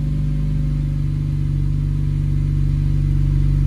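A Honda Accord 2.0T engine running steadily just after a cold start, a loud, even low idle drone with a faint pulsing rhythm and no other sounds.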